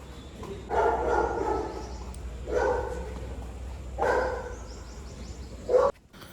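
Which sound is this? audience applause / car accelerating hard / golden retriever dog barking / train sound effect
golden retriever dog barking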